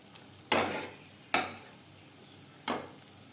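Masala for a rui fish curry being sautéed and stirred in a pan: three distinct scraping stir strokes over a faint sizzle, close and fairly quiet, with no talk.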